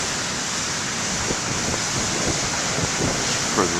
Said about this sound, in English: Some beautiful waves down there too.